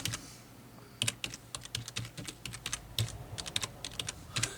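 Bursts of typing on a computer keyboard enter a search, close and clear key clicks in quick uneven clusters separated by brief pauses, with no voices.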